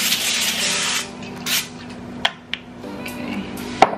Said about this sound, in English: Spray it so it doesn't stick.